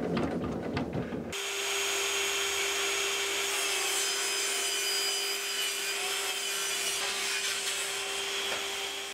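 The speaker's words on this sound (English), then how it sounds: "I'm gonna get some strips ripped down on the table saw." Table saw ripping 18 mm wood into strips, a loud sustained whine with a steady tonal hum as the blade cuts continuously, after a brief moment of lower noise at the start.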